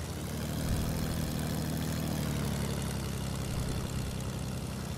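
A plane's engine and propeller drone steadily and loudly in the video game Fortnite, a continuous low, throbbing hum with no talking.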